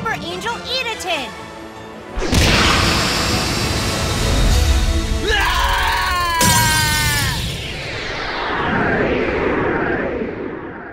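A monster attack effect in a Yu-Gi-Oh card dueling game: loud crashing, shattering bursts with screeching, swooping tones layered over a dense roar, ending in a fading rumble.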